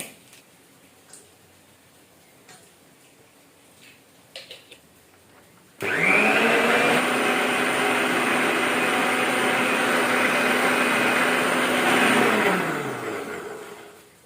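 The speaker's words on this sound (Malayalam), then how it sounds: "അപ്പോൾ നമുക്ക് ആദ്യം എഗ്ഗ് ബീറ്റ് ചെയ്തെടുക്കാം." Eggs with vanilla essence are beaten with an electric beater; after about six seconds of near quiet the motor whirs on loud and steady, running continuously before winding down at the end.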